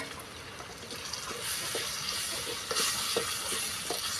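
Taro pieces cooking with soft tomato, salt and ginger in a pan, a quiet steady sizzle broken by scattered stirring clicks and scrapes, close by and fairly faint.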